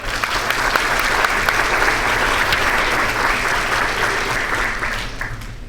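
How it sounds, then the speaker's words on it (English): Attendees at a university college of education scholarship breakfast give a loud, full round of applause that fills the room, holding steady and then easing slightly near the end, with no speech over it. "Please give yourselves a round of applause."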